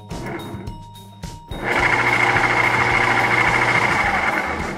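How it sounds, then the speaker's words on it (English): A corded electric motor, hand-held, drives meshing gears on a test run: after a quieter start, a loud, steady whirring grind with a rapid mechanical buzz kicks in around a second and a half and holds to the end. "I just got a cord wired onto the motor for now, and I'm just holding it with my hand because I just want to see to make sure that it actually meshes"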